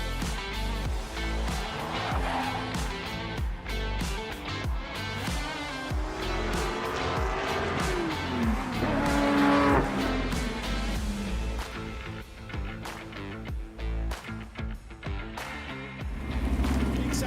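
Race cars in the iRacing sim thunder around Oulton Park at the start of a Rookie Sportscar Cup round, several engines roaring and revving together with rising and falling pitch, loud and continuous.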